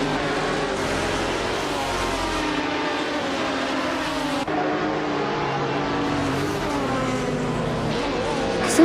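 A video game race at the Lasarti track with a pack of cars led by a 2003 Pagani Zonda GR, producing loud, continuous layered engine roars that rise and fall as the cars accelerate together.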